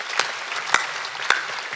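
Congregation clapping during a church worship service: a few sharp, evenly spaced claps about half a second apart over a steady wash of room noise.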